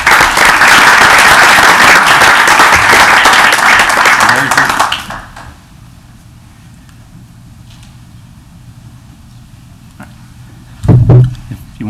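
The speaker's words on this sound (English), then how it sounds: "So again, if we could give him a round of applause." Applause breaks out at a town council meeting, loud and dense for about five seconds before cutting off into quiet room tone, followed near the end by a brief burst of nearby noise.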